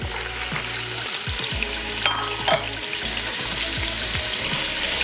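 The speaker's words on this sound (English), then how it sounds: "we are going to use that rendered fat to cook our vegetables for our chowder" White onion and celery frying in rendered fat for corn chowder, a steady close sizzle with a couple of brief clanks and stirring scrapes from a utensil in the pot, no talk.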